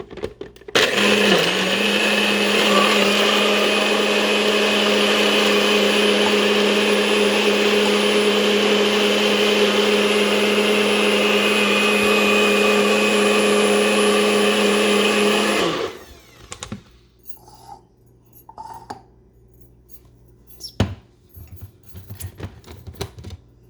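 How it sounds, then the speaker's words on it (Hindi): A blender runs loud and steady for about sixteen seconds, blending avocado, kiwi and yogurt into a smoothie, then cuts off and leaves a few faint clicks and knocks. "उनको ब्लेंड कर लेंगे।"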